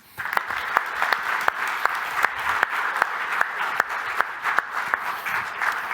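An audience applauds to welcome a speaker at a Swedish fire-safety event, steady dense clapping with a few sharp individual claps standing out, sustained and fairly near throughout.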